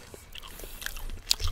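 Crisp bites into crunchy oven-roasted dill chicken skin, close and intimate, with a few short crunches and chewing sounds spread over a quiet moment.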